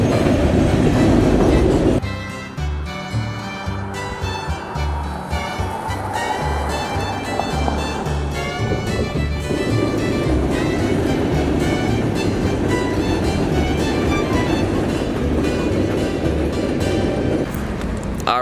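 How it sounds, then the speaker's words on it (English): A train rolls past at close range in Louisiana, Missouri, with a loud, continuous rumble and rhythmic clickety-clack of wheels over rail joints that lasts the whole time, along with metallic squeals. "behind me is where that train was just going past here"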